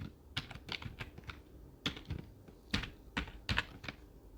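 Fast, irregular clicking of keys on a computer keyboard, close and fairly crisp, with short bursts of keystrokes separated by brief pauses and no voices.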